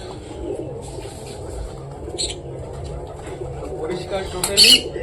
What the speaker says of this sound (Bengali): এখন আমাদের বাইরে ছাড়তে হবে পায়রাগুলোকে